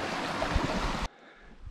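Pleasant Creek in Capitol Reef flowing steadily, a broad close rush of water that cuts off abruptly partway, leaving a faint airy background.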